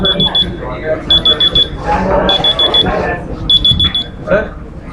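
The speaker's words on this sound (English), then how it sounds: "the alarm has gone off" An alarm clock beeps in a university classroom, going off in repeated bursts of rapid high-pitched beeps with short gaps between them, while people talk underneath.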